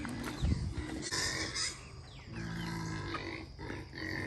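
Goats grunt and snort close by while being fed, in short rough bursts scattered through the clip with some rustling between them.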